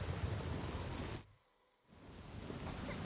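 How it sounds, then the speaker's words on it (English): Heavy rain pours in the Days Gone video game, a dense steady hiss that cuts out briefly for about half a second and then returns at full strength, with no voices. "this rain is so loud"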